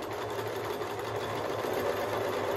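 A Pfaff Select 3.0 sewing machine running a straight stitch with the needle centred, a steady close whirring hum with rapid needle chatter that continues evenly throughout.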